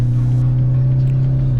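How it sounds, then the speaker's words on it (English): A Toyota Hilux truck's engine revs hard while the truck accelerates, a loud, continuous low drone that holds strongly throughout, with steady road and drivetrain rumble underneath. "revving all the way up to 4000 RPM"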